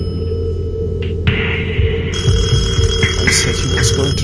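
Telephone ringing in the horror video game Detention: a steady electronic ring begins partway through and repeats over a low droning music bed, moderately loud and close.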